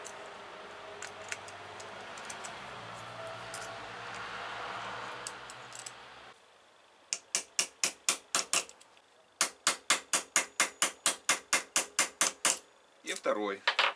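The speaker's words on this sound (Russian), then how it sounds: "Дополнительно подожму еще вот эти заклепки, а потом их пропаяю." Pliers squeezing rivets on a socket contact, first a hissy background stretch, then rapid series of sharp metallic clicks in quick regular bursts, close and crisp.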